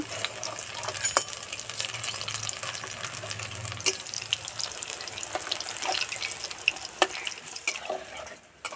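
Tomato pakoras fry in hot oil with a steady, fine crackling sizzle, scattered sharper pops and a faint low hum beneath, constant at moderate level before dropping away at the very end.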